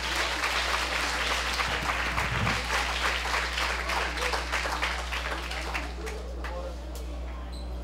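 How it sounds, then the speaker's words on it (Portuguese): A church congregation applauding during an evening service, dense sustained clapping from many hands at moderate loudness with a low steady hum underneath, fading slightly toward the end. "Alguém consegue aplaudir o Senhor com vontade nessa noite?"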